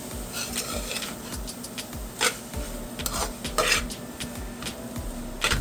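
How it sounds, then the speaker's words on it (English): Thyme mixed into a pot of Trinidadian black eye peas and beef pelau, with repeated soft scraping and clinking of a spoon against the pot, steady and moderately close. "I'm just gonna mix all of this up once again."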